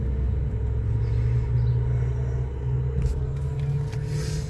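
An Arrma Kraton 8S RC car drives in front of a full-size car, giving a steady, loud motor drone with low rumble throughout and a few brief sharper bursts near the end.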